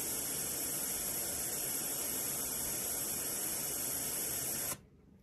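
Steady, loud white noise from an FPGA audio filtering setup hisses continuously and then cuts off abruptly near the end.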